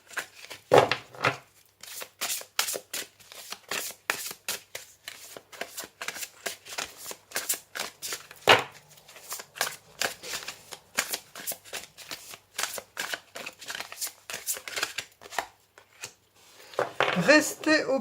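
Tarot cards being shuffled by hand in rapid, repeated riffling bursts that carry on almost without a break, with a brief louder flurry at the very end.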